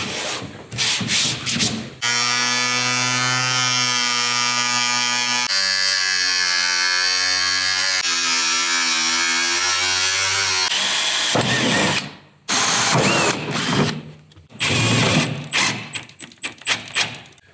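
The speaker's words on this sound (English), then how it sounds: "So we're just throwing some sheet metal screws in this for right now." A power drill driving sheet metal screws into a van door, two long high whining runs whose pitch drops and shifts as each screw seats, with shorter bursts of drilling and clatter on either side.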